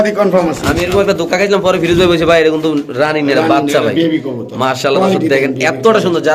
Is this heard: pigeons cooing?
yes